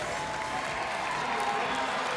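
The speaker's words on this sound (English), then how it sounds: "getting a big applause coming into the game" Spectators applaud in a crowded gym during a girls' high school state basketball final, Medfield against St. Mary's, as a player enters the game. The clapping is dense and continuous throughout.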